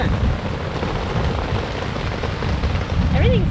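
Rain pours onto a tent during a camping trip, a dense, loud, close patter and hiss that stays steady for several seconds.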